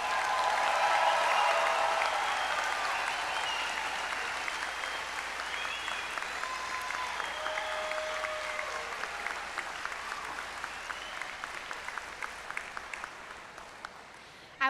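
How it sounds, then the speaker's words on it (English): Final round of applause from a graduate commencement and hooding audience for all the graduating students, sustained broad clapping that thins slowly toward the end, with faint voices and tones mixed in. "How about a final round of applause for all of our students?"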